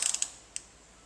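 A socket wrench ratchets while tightening the oil filter on a 2008 Subaru Outback: a quick run of five or six close, sharp metallic clicks, then one more click after a short pause, and faint quiet after that.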